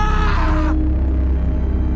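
A man screams in fright in an animated horror story, a loud strained cry lasting under a second that cuts off abruptly, leaving a low rumbling background drone.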